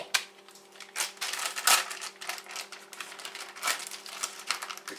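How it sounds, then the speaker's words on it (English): A BHK Woodsman Pro knife slicing the point off a 16-pound brisket, giving close, crisp crunching and scraping cuts in irregular bursts. "what I do to them is I cut the point off"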